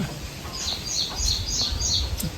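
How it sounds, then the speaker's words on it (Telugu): Small birds chirp in quick repeated high tweets, several close together, over a soft low background rumble. "చిన్న చిన్న పక్షులుగా"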